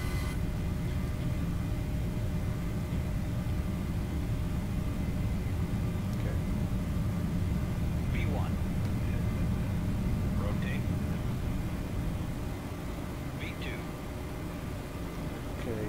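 Jet airliner engines on a Southwest Airlines takeoff roll in the Prepar3D flight simulator give a steady, loud broadband roar that holds across the whole stretch, with faint voices over it.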